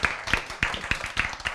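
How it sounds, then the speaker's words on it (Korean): A few people clap together in an even, brisk rhythm of about three or four claps per second, with sharp, close, moderately loud hits repeating alone without talk. "짝짝 박수."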